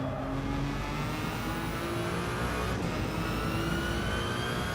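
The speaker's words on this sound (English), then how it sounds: "I can never get tired of that whine." Gr.1 prototype race car in Gran Turismo 7 at steady high revs, a sustained engine whine with rising harmonic tones running loud and continuous throughout.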